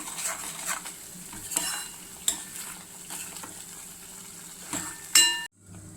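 Kolhapuri onion-garlic masala cooks in oil with a close, steady sizzle while a spoon scrapes and clinks against the pan in repeated stirring strokes, then the sound cuts off abruptly.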